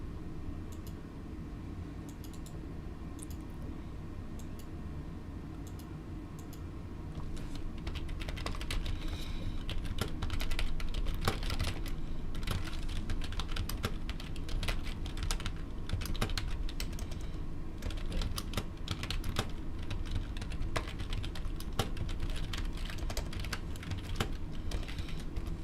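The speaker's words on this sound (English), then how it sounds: "I think my typing's gotten better." Steady, rapid typing on a computer keyboard, a dense run of close clicking keystrokes that continues alone for the whole stretch with no speech.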